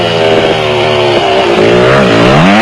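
A loud Porsche-powered V-Motors Raceco off-road race car engine revs hard and steadily during the 1994 Toyota 1000 off-road race, its pitch climbing and dipping as it accelerates, with no voices.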